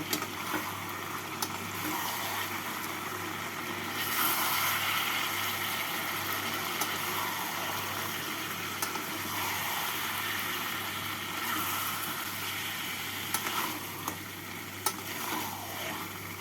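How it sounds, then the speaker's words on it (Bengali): Chicken pieces frying with salt, turmeric and Kashmiri red chili powder in a pan over a medium flame, giving a steady, continuous sizzle with faint stirring scrapes, close and moderately loud. "এবার মাংসের সাথে মশলাগুলোকে কষিয়ে নেব"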